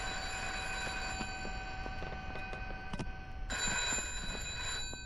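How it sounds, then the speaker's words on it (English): A shrill electronic telephone rings in a ghost-hunting video game, sounding as a steady high tone with a sharp burst around the middle and faint clicks underneath. "The phone ringing. The worst sound in the universe. It is so shrill and piercing."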